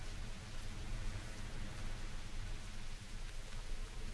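Steady video game rain falls in an even, continuous hiss, faint and unbroken, with no talking.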